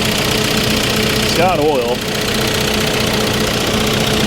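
A 2001 Saab 9-3 Turbo engine idles with a steady, dense rattling and knocking that runs loud and unbroken throughout, with someone speaking briefly over it.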